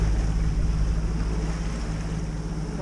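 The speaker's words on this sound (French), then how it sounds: "Donc dans quelques minutes on devrait avoir un bon petit coup de vent." A gust of wind sweeping across open water onto a sailing boat, a steady loud roar of wind and rushing water that stays constant and close throughout, with no voices.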